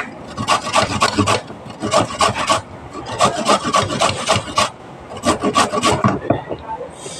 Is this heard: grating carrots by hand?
yes